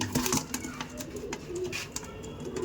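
Andhra pigeons coo softly and continuously nearby, a low murmuring chorus with faint rustling and occasional flutters.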